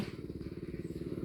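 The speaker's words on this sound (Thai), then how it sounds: "นี่เสียงรถ" A motorcycle engine putters close by with a fast, regular low throb, steady and fairly quiet for about a second, with no speech over it.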